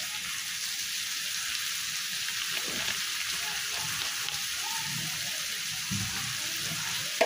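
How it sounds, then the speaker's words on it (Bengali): Steady hissing sizzle of mustard oil heating in a pan for beef curry, a continuous bright frying noise with faint clinks and small splutters, no talking. "এখন সরিষার তেল দিয়ে দেব 2 টেবিল চামচ।"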